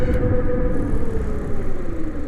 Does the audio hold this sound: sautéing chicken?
no